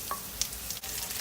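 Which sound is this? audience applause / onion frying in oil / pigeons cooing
onion frying in oil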